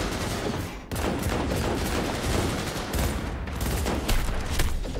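Sustained gunfire in the Cyberpunk 2077 video game: dense, loud automatic bursts fire almost without pause, with brief gaps just before the one- and three-second marks before the shooting resumes.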